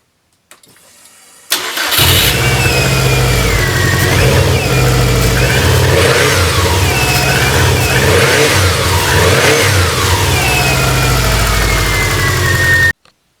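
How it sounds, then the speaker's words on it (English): A rebuilt Honda CR-V engine, jump-started, cranks and catches, then runs loud and close, revving up and down several times before cutting off abruptly. "Now I'm going to go ahead and try to start the car."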